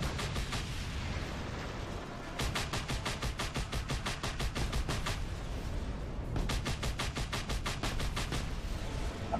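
Rapid automatic gunfire in the video game Just Cause 2, in two long sustained bursts of evenly spaced loud shots over steady background game noise, with a short pause between bursts.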